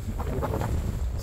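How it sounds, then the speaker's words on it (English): Strong wind gusting on a backcountry mountain hike in Colorado near a lake, a continuous rough roar buffeting the microphone. "This looks like this wind is incredible."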